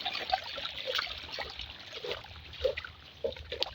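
A small forest waterfall trickles and splashes softly, with irregular gurgles and drips over a low, steady water wash, fairly near and quiet.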